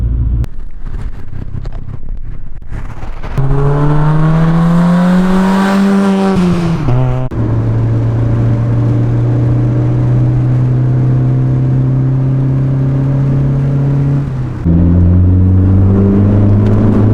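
A car running with no exhaust revs hard, its loud raw engine note rising and falling in long sustained pulls, close to the microphone and with no speech.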